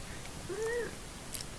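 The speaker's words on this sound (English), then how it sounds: "Sorry, there's a cat rolling by." A pet cat gives a single short, soft meow close to the microphone during a quiet indoor moment, followed by a faint small click.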